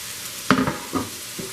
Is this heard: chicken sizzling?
yes